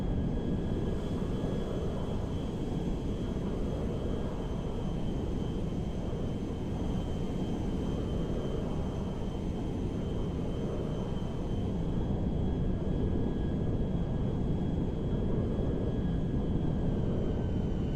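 Boeing 747 airliner engines climbing in the video game GTA 5, a steady loud jet roar with faint high engine whine tones, continuous and unchanging, with no voices.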